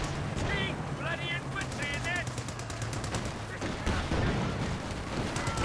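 Rapid machine-gun bursts and rifle fire in Company of Heroes 2 rattle steadily through a busy World War II battle mix, with a caster talking over the constant shooting and occasional louder impacts.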